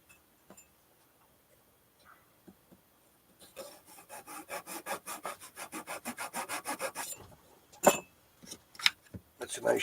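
A sharp hand saw cuts through wood for a violin back graft, a rapid run of close, crisp back-and-forth strokes lasting several seconds, followed by a few isolated knocks and scrapes of the workpiece.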